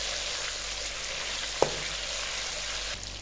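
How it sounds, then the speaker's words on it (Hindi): Chicken with green chillies frying in a karahi for Peshawari chicken karahi, a steady, moderate sizzle with one short clink partway through and no talk. "चिकन को सब्ज़ मिर्चों के साथ थोड़ी देर के लिए भुनाई करेंगे"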